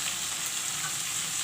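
Okra and potato (bhindi aloo) fry in oil in an open pan, giving a steady, even sizzle with a bright hiss that holds at one level throughout, with no voices.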